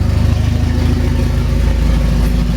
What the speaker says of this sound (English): you can see it running, and it idles good,